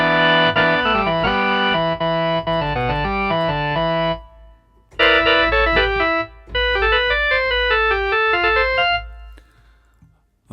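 A Gibson organ played through a vintage British 4x12 cabinet, miked with a Dynamic 57, sounds out bright sustained chords and a run of melody in two phrases separated by a short pause.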